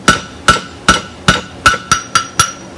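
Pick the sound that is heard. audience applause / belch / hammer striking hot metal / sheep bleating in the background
hammer striking hot metal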